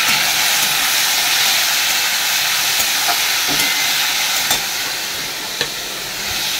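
Potatoes dropped into a hot pan sizzle with a steady, loud hiss that holds for several seconds, with a few small crackles and pops breaking through near the end.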